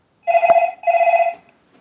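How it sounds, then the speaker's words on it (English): A telephone rings in two clear, close bursts with a short gap between them and no talking over it, heard during an online book launch. "We'll just turn that phone off."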